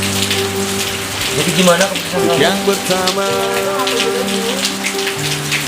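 Steady rain pours down with a dense, constant patter throughout, while music plays and a voice speaks over it.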